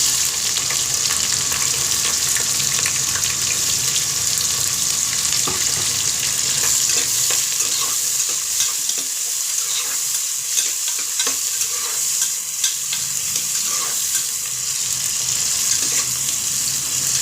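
Onions frying in hot oil with cinnamon, cloves, star anise and four cardamom pods, a loud continuous sizzle with stirring scrapes and crackles running through, close and alone.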